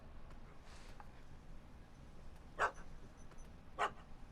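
In The Witcher 3, a dog gives two short barks about a second apart, faint and somewhat distant over a low, quiet ambient background.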